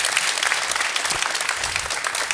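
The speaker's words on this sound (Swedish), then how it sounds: "Jag tycker vi ger Mattias en varm och stor applåd" An audience at a startup conference day claps warmly in a dense, steady burst of applause that continues without a break for a couple of seconds.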